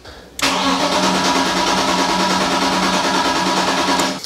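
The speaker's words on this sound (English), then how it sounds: "Now we're going to try to start the engine." A BMW engine with an MS43 ECU cranks continuously after an ECU flash, the starter churning in a steady rhythm for about four seconds, loud and close, without catching.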